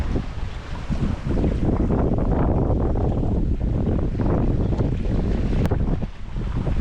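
A sailboat moving along the coast of Guadeloupe at about five knots, with steady loud wind buffeting the microphone and water rushing past the hull, continuous and close with no talking.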